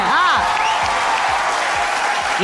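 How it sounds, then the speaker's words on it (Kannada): An audience claps for Ramesh on the stage of a Kannada TV game show, a continuous wash of applause mixed with swooping musical sound effects and a rhythmic low beat. "ಬರ್ಲಿ ಚಪ್ಪಾಳೆ ರಮೇಶ್ ಸರ್ಗೆ"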